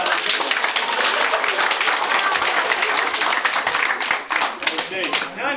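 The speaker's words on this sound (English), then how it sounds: "Let's give Shane a really big round of applause" A small home audience at a family magic show in 1993 claps enthusiastically for a young volunteer, with bright, close handclaps that fade out near the end.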